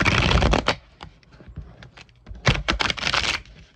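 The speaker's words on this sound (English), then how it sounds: "Gotta shuffle again, like 2 more times" A deck of cards is shuffled up close in two main bursts of brisk, flapping riffles, with lighter scattered card taps and slides in the quieter gap between them. No one talks.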